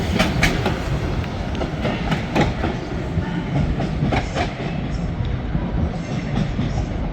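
Single-unit train at Manchester Piccadilly station, rumbling steadily with rhythmic clickety-clack of wheels over rail joints, loud and close, continuous throughout.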